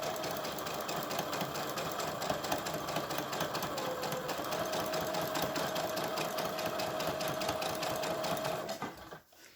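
A sewing machine runs steadily while stitching toward the corner of a waterproof patio cushion, a continuous close motor whir with a brief dip partway through, stopping abruptly near the end.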